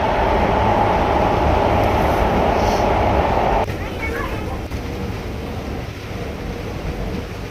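Loud, steady rumble of a moving train in Singapore heard from inside, with a continuous rolling roar that drops slightly in level and changes tone partway through.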